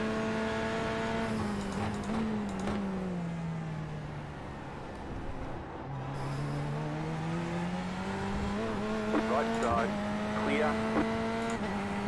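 An LMP2 prototype engine in a sim racing game whines loudly for several seconds, dropping in pitch as it slows, then climbing again as it accelerates, with a voice talking over it.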